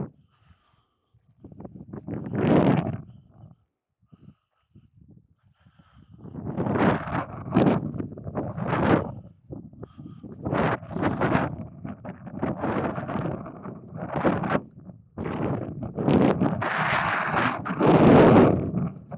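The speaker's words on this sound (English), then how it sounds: "Sorry about the wind." Gusty wind buffets the microphone in repeated rumbling bursts, loud and close, building in strength toward the end.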